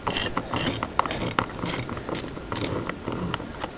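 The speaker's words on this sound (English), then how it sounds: "take your screw and tighten that" A screw is turned into the core of a 2x3x3 twisty puzzle, giving a rapid run of small clicking, ratchet-like ticks close by, with no talking.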